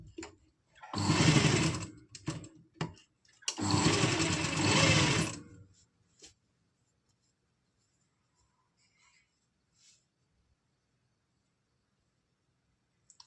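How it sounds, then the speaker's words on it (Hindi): A sewing machine with a single foot stitches piping onto an umbrella frock in two loud, close bursts of fast whirring, then falls quiet with only faint clicks afterward and no talk. "जहाँ जहाँ हम ये जो हमारा पाइपिंग अटैच करने का जो निशान है फिटिंग का, इसके ऊपर हम सिलाई लगा देंगे।"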